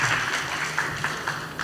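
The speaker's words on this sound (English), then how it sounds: "Big applause to the second presenter, Raya" An audience gives a short burst of applause for a presenter at a halal summit conference session, clapping steadily and fairly close.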